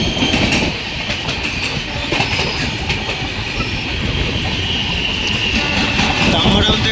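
Santragachi Antyodaya Express passing close by on the South Eastern Railway, loud continuous rushing rumble with rhythmic clickety-clack of wheels over rail joints and a faint squeal, sustained for the whole stretch.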